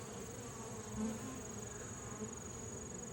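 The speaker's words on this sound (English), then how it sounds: "Maybe a bee is trying to get in that wasn't supposed to be in, or is that a drone? They're fighting." Honey bees fight at a hive entrance fitted with an entrance reducer, a constant close buzzing drone with brief louder flares of wingbeat, faint and continuous.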